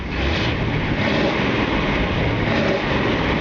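A steady, dense V8 exhaust rumble from a 1964 Ford Galaxie 500XL with a deep low-end roar holds constant throughout, loud and close with no pauses.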